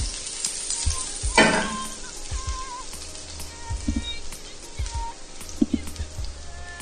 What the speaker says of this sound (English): I'm going to caramelize my onions, so I'll add just a tablespoon of onions. Shake it around the pan.